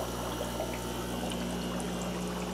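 Steady, continuous bubbling and gurgling of air bubbles rising through an aerated water culture tank in a winter grow room, an even wash of fizzing water noise with no talk.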